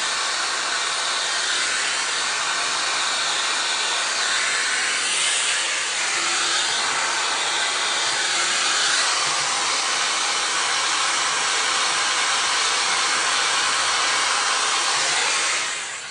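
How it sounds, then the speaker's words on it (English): A hair dryer blows steadily and loudly while a short micro bob is being styled, a continuous broad whooshing airflow with slight shifts in pitch as it moves, tapering off at the very end. "we're mostly blow dried"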